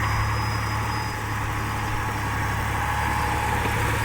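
A T-150 tractor fitted as a bulldozer runs with its diesel engine in a steady, loud, continuous drone and low rumble, close by with no pauses and no talk.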